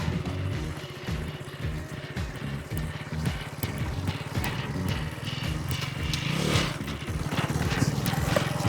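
KTM Duke 200 motorcycle engine running steadily at low speed as a learner rider pulls away, a close, continuous puttering with slight rises in revs toward the end.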